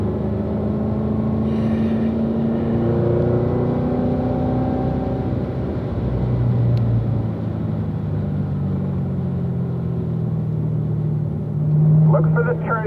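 A car driven on the Spring Mountain race track, its engine rumbling steadily with rising and falling revs as it rides over curbing, loud throughout with the instructor talking over it.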